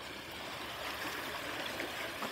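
Water flows steadily through an irrigation channel beside rice paddies in a Korean village, a continuous close rushing and trickling with no pauses.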